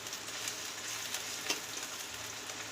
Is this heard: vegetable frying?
yes